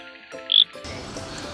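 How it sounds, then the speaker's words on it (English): Pickersgill's reed frog, an endangered species, calling from grassland wetland habitat: a short, sharp, high-pitched chirp stands out briefly over a soft outdoor background, followed by a steady hiss of ambient noise. "listen out for those Pickersgill reed frogs"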